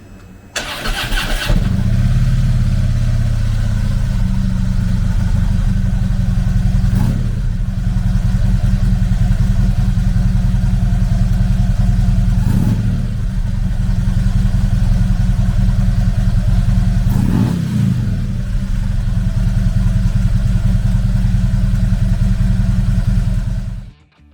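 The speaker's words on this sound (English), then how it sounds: "Powered by a 103 cubic inch V-twin motor, the TRIGLIDE puts 87 horsepower and 101 foot-pounds of torque through a 6-speed transmission." A 2016 Harley-Davidson Tri Glide Ultra Classic trike with a 103 cubic inch V-twin starts and settles into a loud, close, steady lumpy idle, with a few brief throttle blips before shutting off.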